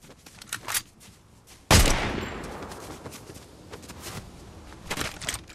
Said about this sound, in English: I love the tri-beam laser rifle